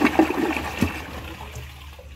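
Glacier Bay high-efficiency toilet from 2019 flushing, a brief rush of water that quickly fades into a soft trickle, fairly close and with no talking.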